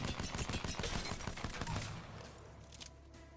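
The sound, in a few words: P2020 pistol hip-fire gunshots in Apex Legends video game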